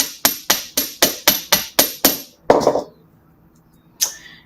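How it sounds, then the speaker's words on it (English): A metal hammer strikes wire on a hard surface, eight sharp even blows in a steady rhythm, then a looser clattering hit and one more tap after a pause, close and clear with no talk. "Hammer, hammer, hammer."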